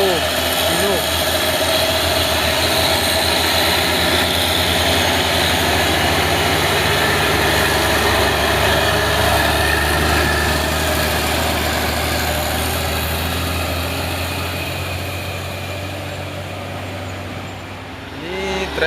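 A Hino trailer truck hauling a CPO (crude palm oil) tanker idles with a steady low engine rumble that stays loud throughout and eases off slightly toward the end, with faint talk mixed in.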